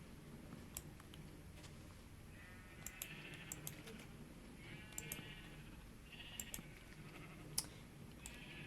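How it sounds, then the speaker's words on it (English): Sheep bleating in Minecraft around a wool farm, several short, faint bleats scattered across the stretch over soft clicking and a low background hum. "I've got wheat in my offhand, so it's attracting the sheep to me."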